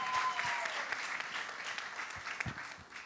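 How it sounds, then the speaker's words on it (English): Audience at a campaign launch event gives the panelists a round of applause, steady dense clapping from many hands filling the room throughout, without speech. "round of applause?"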